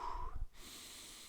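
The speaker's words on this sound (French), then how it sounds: "prendre une grande respiration et mettre ma concentration sur ma respiration" One deep breath is drawn in close to the microphone, a brief airy inhale that gives way to quiet room hiss.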